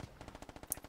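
A fast, even burst of automatic rifle fire in the video game Squad, around a dozen rapid shots in about a second, crisp and fairly close.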